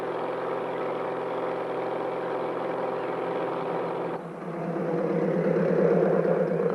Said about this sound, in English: we use the noise of our airboat motor to haze heavy concentrations of geese and ducks away